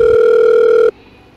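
Telephone dial tone heard while placing a call: a loud, steady electronic tone that cuts off abruptly after about a second, leaving a faint hiss.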